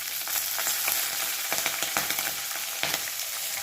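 Green chillies frying in hot oil in a pan, a loud steady sizzle with crackling pops and occasional stirring scrapes, close up and without voices.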